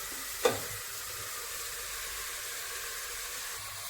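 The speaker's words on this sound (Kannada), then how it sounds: "ಇದು ಚೆನ್ನಾಗಿ ರೋಸ್ಟ್ ಆದಮೇಲೆ ಕಟ್ ಮಾಡಿ ಇಟ್ಕೊಂಡಿರೋ ಪುದೀನ ಮತ್ತು ಪಾಲಕ್ನ ಹಾಕೊಳ್ತಾ ಇದ್ದೀನಿ" Chopped mint and spinach roast in a pan and get stirred, a soft, even sizzle and hiss with one brief clink near the start, steady and close with no talking.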